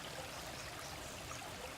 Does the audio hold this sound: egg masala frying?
no